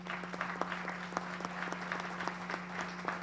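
Audience applause at the closing ceremony of ARQUISUR 2018, honoring prize-winning works, a steady dense patter of many hands clapping with a constant low hum underneath and no talking.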